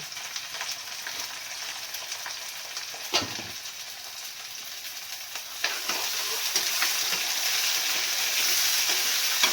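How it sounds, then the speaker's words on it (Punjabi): Onions sizzling in a pan with roasted garlic, a steady close frying hiss with a few sharp stirring clatters, growing slightly louder toward the end, with no voices. "ਲਸਣ ਆਪਣੀ ਭੁੰਨੀ ਗਈ ਤੇ ਪਿਆਜ਼ ਪਾ ਦਿੰਦੇ ਹਾਂ"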